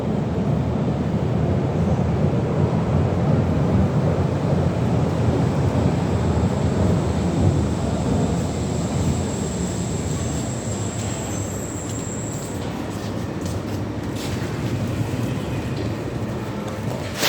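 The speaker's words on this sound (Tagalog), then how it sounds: "Ayan, parating na yung train." A train approaching outdoors, a steady broad rumble with wind buffeting the microphone, holding at a constant loud level throughout without any voices.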